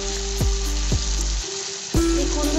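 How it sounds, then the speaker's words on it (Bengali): Chopped ivy gourd (kundru) sizzles loudly in hot oil with fried spice paste for a fish curry, with a steady crackle and a few scraping stirs of the pan. "কুনরুটা আমি মশলার সঙ্গে একটু ফ্রাই করে নেব"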